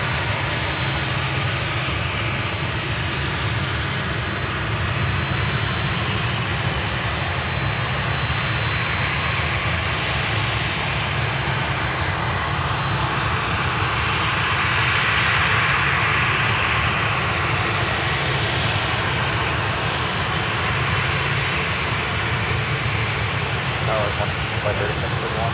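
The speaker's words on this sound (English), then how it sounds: "We have an American Airlines 777-200 coming in from Cancun." Steady, loud roar of an American Airlines Boeing 777-200 jet on approach to landing, a broad sustained engine rumble that swells slightly midway, with faint talk underneath.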